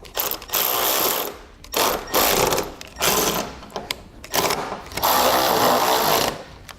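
A ratchet with a 1/2 inch socket tightens running board bolts on a step, loud close clicking bursts repeated in several strokes separated by short pauses.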